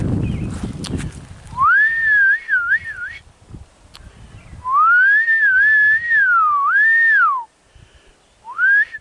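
A person whistles a wavering, melodic call to cows in several long phrases separated by pauses, loud and close, after some rustling at the start.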